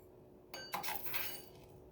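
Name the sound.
teaspoon adding rock salt into glass jars of corn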